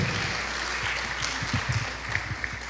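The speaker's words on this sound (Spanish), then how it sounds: "Así que ese fuerte aplauso nuevamente para don Mario" Conference audience at an association congress opening applauding, steady dense clapping with a few louder individual claps, no speech.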